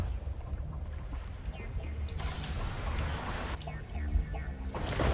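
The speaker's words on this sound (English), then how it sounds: "it's mostly the light sound of waves crashing" Light waves washing on a shore in Mass Effect, with a continuous soft rush of water and wind that swells at moments, players' voices faintly in the background.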